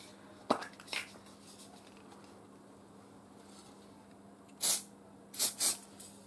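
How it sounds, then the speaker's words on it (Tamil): Hair spray hisses from an aerosol can in short bursts, one near the start and three close together near the end, in an otherwise quiet room. "நான் ஹேர் ஸ்ப்ரே பண்ணி காமிக்கிறேன் பாருங்க."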